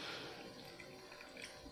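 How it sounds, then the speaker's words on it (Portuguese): Water pours into a batch of homemade coconut liquid soap, a faint steady splashing and trickling stream heard close by without talk. "eu vou adicionar mais 1 litro de água"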